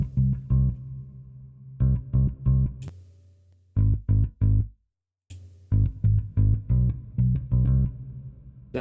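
A Trillian synth bass on a retro 60s full-range preset plays short staccato notes in rhythmic bursts with brief gaps, punchy and dry, without any talking.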